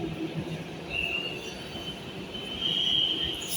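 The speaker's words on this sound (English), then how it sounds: "There goes that train." A crowded metro train passes through a station platform, a steady rumbling roll with high-pitched wheel squeals rising twice, fairly close and continuous, with no talk.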